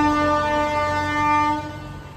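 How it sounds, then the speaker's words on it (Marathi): A train at Igatpuri railway station sounds a loud, steady horn tone that holds for about two seconds and then begins to fade, with no voices. "इकडे बाजूला हा स्टेशन आहे. इकडे इगतपुरी स्टेशन."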